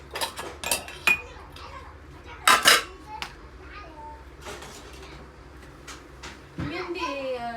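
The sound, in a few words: washing dishes, pots and pans in kitchen sink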